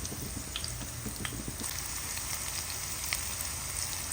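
Plenty of chopped garlic frying in oil in a pan, sautéed for ginisang upo with sardines: a steady close crackling sizzle with scattered small pops, no talking.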